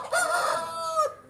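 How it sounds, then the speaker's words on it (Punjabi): A rooster gives one short, close crow, a bright rising call that holds briefly and then drops off, with no talking over it. "ਮੈਂ ਤੁਹਾਨੂੰ ਮੁਰਗਾ ਵਿਖਾਉਣਾ ਜੀ"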